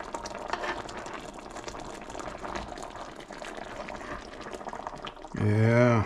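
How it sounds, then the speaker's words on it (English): Swiss steak sauce bubbling hard in a pan, a steady close boiling hiss and sputter that runs throughout, swelling louder and fuller near the end. "it's boiling pretty aggressively"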